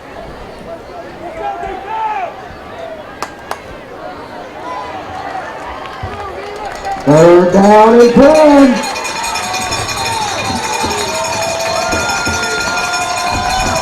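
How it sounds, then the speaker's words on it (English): At a high school football game between Lakeside Rams and Sylvan Hills, the crowd makes a steady roar to pump up the defense, swelling briefly louder partway through, while an announcer speaks over it. "You can hear the crowd pumping up this defense, trying to get the stop right here."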